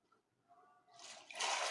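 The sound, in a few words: splashing in water in the video game Minecraft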